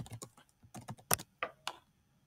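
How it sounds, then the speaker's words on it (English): A computer keyboard is typed on in short bursts, with crisp, close key clicks in uneven clusters and brief pauses between them. "When you select chat, you'll be able to type in the chat for that meeting"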